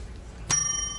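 A single bright ring from a desk bell struck once at a Singapore talk-show debate, sharp onset halfway through and a clear sustained tone decaying slowly, alone without voices.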